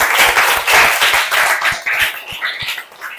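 A classroom audience of students and teachers claps loudly and close by in a quick, dense burst that thins into a few scattered claps near the end.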